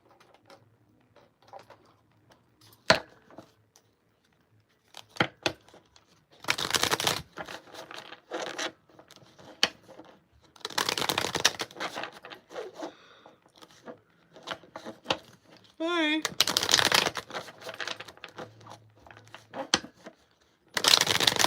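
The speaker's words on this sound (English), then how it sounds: "Let me pull some cards for that." Tarot cards are shuffled by hand in several loud, riffling bursts separated by quiet pauses, with scattered taps and brief scrapes of cards between them, close to the listener and without speech.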